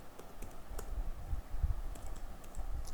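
Quick, irregular clicks of fingers typing on a computer keyboard, fairly close but faint, with no voices.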